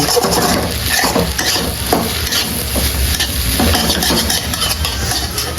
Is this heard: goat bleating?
no